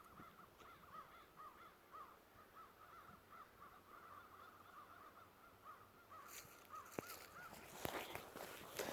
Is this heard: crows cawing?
yes